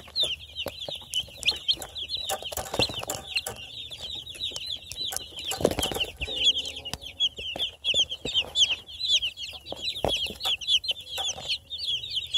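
Baby chicks peep constantly in a high, busy chorus of short chirps, close and steady throughout, with occasional soft thumps and rustles underneath.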